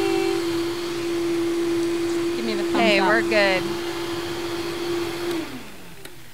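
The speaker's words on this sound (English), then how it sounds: "this blender never disappoints" A blender runs at full speed while making raw nachos, a loud, steady drone with a high whine. Voices talk briefly over it before the motor winds down near the end.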